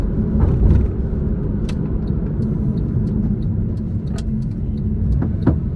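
A 987.1 Porsche Cayman S engine runs with a steady, deep rumble throughout, close and fairly loud, with no voices.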